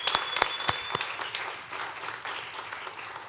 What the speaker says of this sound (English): Let's give all of our Legends 2024 a giant round of applause